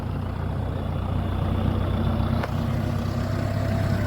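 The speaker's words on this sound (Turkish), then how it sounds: "öbür traktörümüz de geldi." A heavy diesel farm tractor arriving rumbles close by at a steady idle, with a brief sharp hiss partway through.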